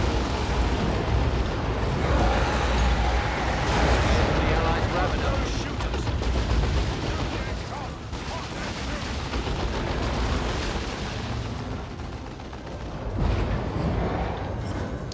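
Gun turret firing in the Warhammer 40k Dawn of War II Last Stand mode, rapid dense bursts of gunfire and blasts layered with battle noise, loud and continuous, with a player talking over it.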